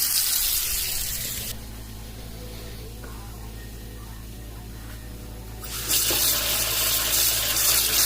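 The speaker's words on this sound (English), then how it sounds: "run the hot water and leave it running." Steady broadband rush of hot water pouring from a bathroom tap, loud at first, dropping briefly to a quieter hum, then surging back to a full flow.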